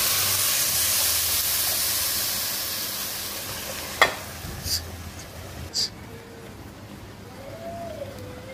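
Hot water poured onto pulao rice frying in a pan gives a loud hissing sizzle that slowly fades, followed by a few sharp clinks of a utensil against the pot and a faint steady simmer.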